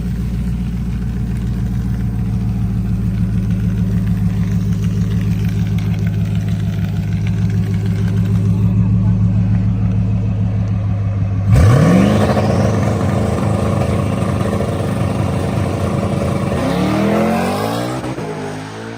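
A 1000 hp boosted Mustang drag car builds a loud, steady engine drone at the line, then launches and accelerates down the drag strip, the note climbing hard through gear changes and staying loud and close throughout.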